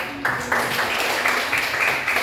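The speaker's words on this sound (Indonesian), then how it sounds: "Tepuk tangan untuk kalian." A class of students applauds together, producing a steady wash of clapping with a few louder rhythmic bursts, fairly close and loud.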